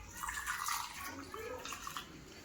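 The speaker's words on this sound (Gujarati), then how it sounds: "તો આ રીતે પાણી ભરી દેવાના," Water pours into a jar of amla gooseberries being pickled with turmeric, a faint continuous splashing and gurgle in a kitchen.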